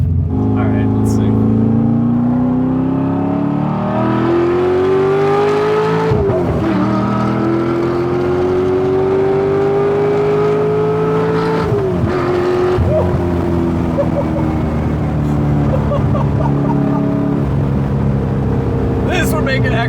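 An LS-swapped Porsche 911 with a custom exhaust revs hard, rising in pitch twice in long sweeps with a sharp drop between, then settles into a loud steady drone, close and dominant with voices underneath.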